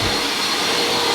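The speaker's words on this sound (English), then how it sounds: "Why are you vacuuming me?" A vacuum cleaner runs close by with a steady, loud, unbroken whine and rush of air, alone without talk.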